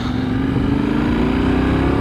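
A Yamaha motorcycle engine accelerates steadily, its tone climbing gradually under sustained wind and road noise, close and loud, with no talking.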